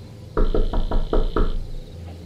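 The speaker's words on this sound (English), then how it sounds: "I turned around when I heard a knock at the window of the house." Six quick knocks rap on a house window in a steady burst, close and fairly loud, then stop, with no voices over them.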